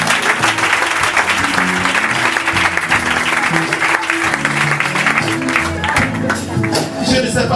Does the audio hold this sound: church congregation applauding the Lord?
yes